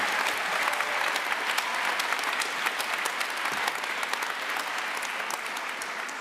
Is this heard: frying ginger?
no